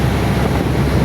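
Steady, loud wind roaring across an open microphone out on the water far from shore near Tingloy, Batangas, with a constant low rumble and no voices.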